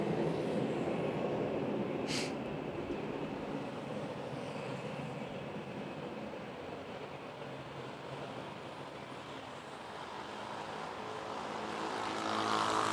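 A loud airplane at Manila's NAIA airport gives off a broad, steady roar with an engine whine, holding for the whole stretch and swelling again near the end.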